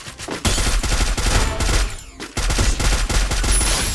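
Rapid gunfire fills a match of the battle-royale mobile game Free Fire, loud, dense automatic bursts that pause briefly and then resume at full intensity.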